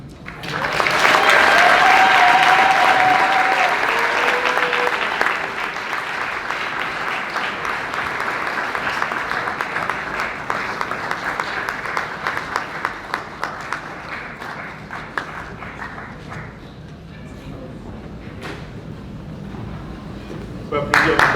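Wedding guests applaud at a reception in Lubumbashi, a dense, sustained burst of clapping that starts loud and gradually thins over about twenty seconds, with some voices and cheering mixed in.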